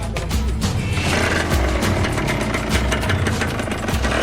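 A small, underpowered motorbike strains its engine climbing a steep harbour hill while heavily loaded with fuel cans, a steady close buzzing drone running throughout.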